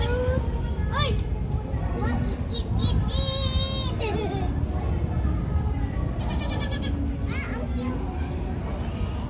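White baby goats bleating in short, high, wavering calls several times over a constant crowd background, with children's voices and chatter nearby.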